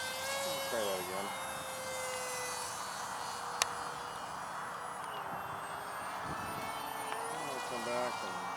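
A scratch-built 1/32 scale SR-71 model pusher jet flies in a crosswind, its thin high-pitched motor whine sweeping in pitch as it passes, with a voice talking over it.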